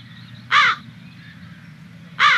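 Two loud, harsh crow caws ring out close by, about one and a half seconds apart, against a low ambient rumble.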